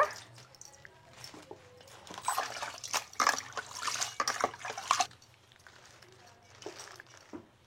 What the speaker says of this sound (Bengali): শাকটা একটু সুন্দর করে এইভাবে ধুয়ে নেব।